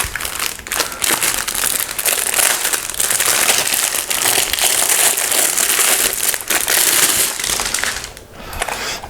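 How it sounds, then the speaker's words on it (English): Packaging for a Mountain Everest 60 keyboard crinkles and crunches loudly and continuously at close range while being unboxed, easing off briefly near the end. "And now it has come the time to properly unbox this keyboard."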